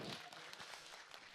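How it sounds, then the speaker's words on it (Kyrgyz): Wedding guests at a celebration clap their hands in a soft, steady patter of applause, heard faintly and at a distance for a brief moment. "Ошолорго чоң рахмат, ошолор кол чабып койгула."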